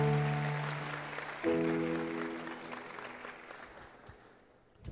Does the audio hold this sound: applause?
yes